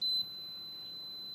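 A portable jump starter's warning alarm goes off when its battery clamps are connected wrong, giving a brief louder onset followed by a thin, steady high-pitched electronic tone.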